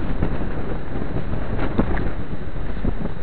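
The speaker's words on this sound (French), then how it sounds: "c'est là qu'il y a une grosse bourrasque" Strong gusting wind during a windstorm, roaring continuously and buffeting the microphone at close range, with no voices.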